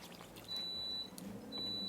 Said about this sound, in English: I know the timer is gonna go off in any second.